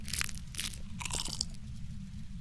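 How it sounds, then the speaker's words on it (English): Crunching noise in the horror game Phasmophobia on Nightmare difficulty, three or four bright, crisp crunches like chewing, heard close over a steady low rumble. "that crunching noise isn't great"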